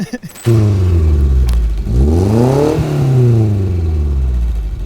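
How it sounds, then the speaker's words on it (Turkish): A cheap off-road car's engine cranks and fires, then revs up and down several times in sweeping rises and falls, loud and close, with no one speaking over it. "Arabayı çalıştırıyorum. Biraz ses olacaktır."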